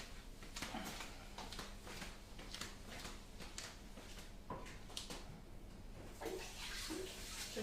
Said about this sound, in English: I'm going to go and run hot water over it actually